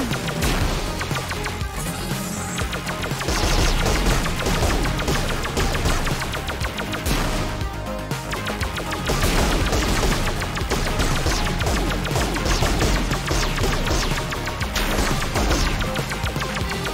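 Rapid, continuous spaceship gunfire in the roguelike shooter game Black Paradox fires in dense bursts with crashes and explosions, loud and unbroken over backing game music.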